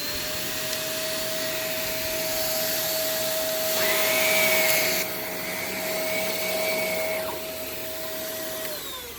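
A Shark Navigator upright vacuum cleaner runs with its hose busted and detached. It gives a steady whining drone with a strong motor tone, and a brief louder rushing surge partway through before it settles back to the hum.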